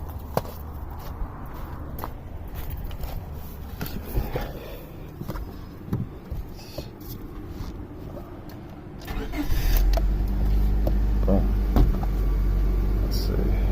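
A 2003 Honda Civic with a 1.7L engine and misfire faults cranks and starts. Clatter and handling noises come first, then the engine catches near the end and settles into a steady, close idle.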